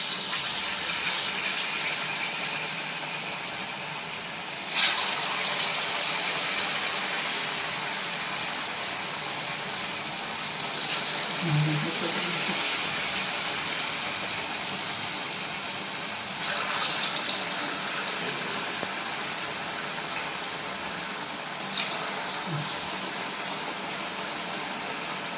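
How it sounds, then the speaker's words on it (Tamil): Susiyam balls dipped in batter fry in hot oil with a steady, dense sizzling hiss that holds evenly throughout, broken by a few brief louder crackles and bubbling bursts. "உருளையை மாவில் டிப் பண்ணி எண்ணெயில் போடுவோம்"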